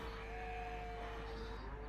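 Sheep bleat faintly in the farming game Farming Simulator 17, a soft, distant call set against a steady low hum and background tone.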